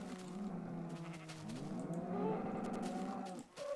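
Cattle in the Minecraft video game moo repeatedly in a drawn-out, overlapping series, fairly close and steady, with no talk over them.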